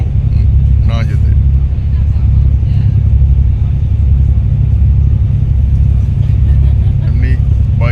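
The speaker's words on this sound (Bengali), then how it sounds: "এই জাহাজ এগিয়ে চলেছে, আর এই হচ্ছে পাবলিক ফেরি।" Steady, loud low rumble of a public ferry's engine while the ship moves along, continuous throughout with a voice talking over it.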